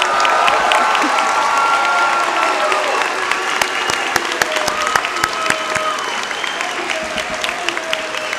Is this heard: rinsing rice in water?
no